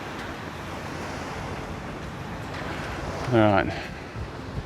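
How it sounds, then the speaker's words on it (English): Wind sweeps across a Maldives island resort in a steady, broad rushing wash, with a brief spoken phrase cutting in near the end. "So that wind is picking up on this side of the island now"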